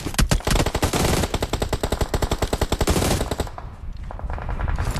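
Automatic gunfire in the mobile battle royale game PUBG Mobile: rapid, evenly spaced bursts of shots fire loud and close for about three seconds, then stop, leaving quieter background game sound.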